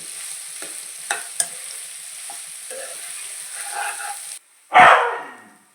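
Onions frying in a pan with dried prawns, a soft steady sizzle with a few sharp clicks from stirring, then a sudden louder burst of hissing toward the end.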